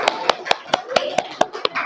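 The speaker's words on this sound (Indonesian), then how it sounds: "Tepuk tangan buat kelompok" Clapping for a group: a short, fast series of loud, crisp claps in unison at a regular beat, close by, with voices underneath.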